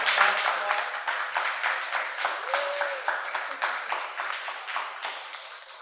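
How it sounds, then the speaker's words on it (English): A small audience at a gender fluidity and faith workshop in a Miami Beach community church gives a short round of clapping, a sparse, roomy patter of separate claps at moderate volume, with a voice speaking briefly over the start. "You can have a quick round of applause."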